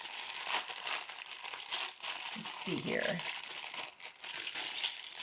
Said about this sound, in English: Oh, I love these resealable plastic bags